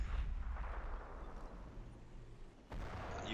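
Scorched Earth artillery fire in the strategy game Europe in Ruins rumbles through a dense low roar of battle, with a sharper broadband blast bursting in near the end over continuous distant booms.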